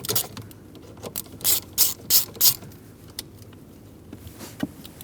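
A ratchet backs out a T25 screw holding a metal plate on the steering column of a 2003-2009 Dodge Ram 2500, giving a close run of four or five crisp clicking pulls, then a few fainter ticks.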